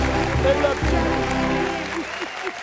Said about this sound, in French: on applaudit pour Barakissa.